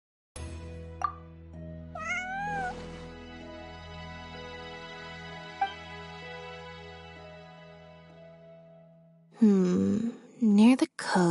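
Cat meowing in the video game Genshin Impact, a few short rising meows near the start over sustained musical tones, followed by louder voiced, meow-like cries at the end.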